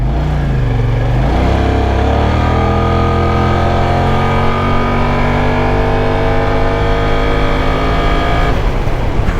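A Kymco AK550 maxi scooter engine pulls hard through city traffic, its note rising steadily in pitch as it accelerates, loud and close with wind rush, then easing off near the end.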